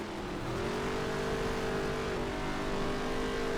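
Race cars in NASCAR Heat 3 roar steadily in a close pack during a career-mode race, a continuous engine drone with shifting pitch as a lapped car holds up traffic ahead.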